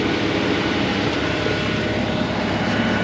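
A sailboat's engine drones steadily while motoring, a broad even motor rumble running continuously with no pauses and no voices.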